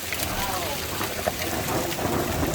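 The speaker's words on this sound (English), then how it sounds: "This hail is unbelievable. I don't think we've had hail this bad ever." Hail storm with thunder in Stocksbridge, UK, a dense continuous patter of hailstones striking surfaces close by with a low thunder rumble underneath, and voices briefly heard.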